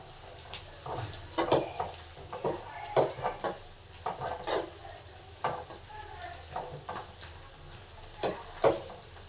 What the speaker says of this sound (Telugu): ఇప్పుడు ఆయిల్ హీట్ ఎక్కింది, ఎర్రగడ్డ వేసినాను.